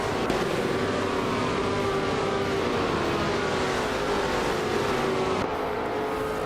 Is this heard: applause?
no